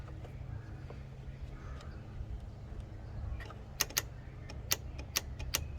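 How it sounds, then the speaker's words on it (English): An EVAP purge valve from a 2010 Ford Fusion Hybrid being bench-tested gives a series of sharp, loud clicks in the second half, spaced irregularly over a steady low hum, with no talking. "you should hear a loud click."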